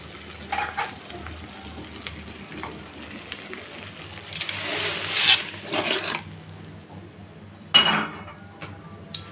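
Fish wrapped in banana leaf frying in a covered wok over medium heat, a soft continuous sizzle broken by occasional clinks of pan and utensil, with no talk.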